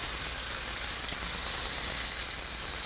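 Grass-fed beef steak browning in a hot pan gives a dense, even sizzle that hisses steadily and loudly throughout without pause, with no voices over it.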